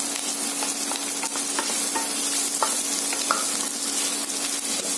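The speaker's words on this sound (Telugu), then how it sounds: "ఆనియన్స్ ఎంతవరకు వేగాలో మీకు తెలియటం కోసం" Onions frying in a pan for a hotel-style Punjabi rajma curry: a loud, steady sizzle with scattered crackles and a few spoon-stirring scrapes, close up with no talking.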